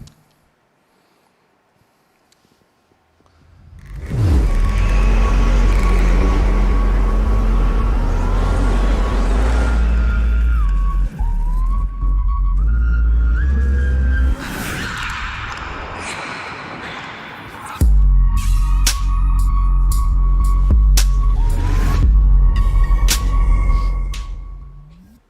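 A 3D printed hypercar races around Laguna Seca, a famous California circuit, its engine roaring loud and continuous with rising and falling revs as it passes, sustained for about twenty seconds without talk.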